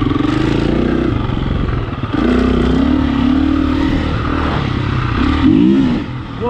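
A motorcycle engine accelerating at Croom Motorcycle Area, loud and close, with rising revs through gear changes and a rough, throaty drone that swells near the end.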